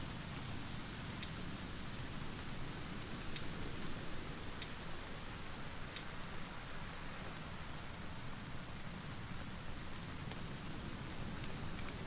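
Steady rain falls in the survival game ASKA, a soft continuous hiss with faint scattered drop ticks, quiet and unbroken throughout.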